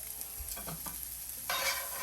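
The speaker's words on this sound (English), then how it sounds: "So I'm just going to saute with my vegetables and my garlic up." Minced garlic and diced vegetables sizzle in a hot pan for shrimp and grits, with a soft scrape of stirring before the hiss swells louder partway through; no voices.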